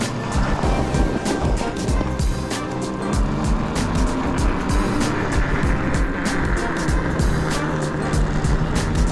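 Electric bike fitted with a Flipsky 75100 Pro controller riding under throttle in freezing weather, a steady close whir and road rush running throughout with wind buffeting and scattered clicks and knocks.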